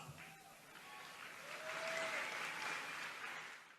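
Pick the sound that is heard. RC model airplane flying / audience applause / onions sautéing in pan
audience applause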